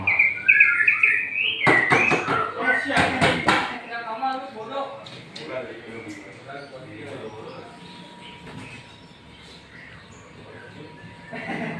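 Songbirds kept and tended at home chirp in bright, repeated calls, loudest at the start and thinning out later, mixed with a few sharp household knocks and clatters; people talk through much of it.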